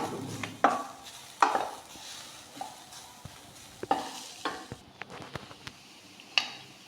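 Ground horse gram sukka frying and being stirred in an oiled pan, with steady sizzle under repeated scraping strokes and soft utensil knocks, close and alone.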